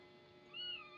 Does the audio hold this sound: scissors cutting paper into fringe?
no